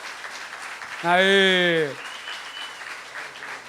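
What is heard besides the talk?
studio audience applauding a guest's entrance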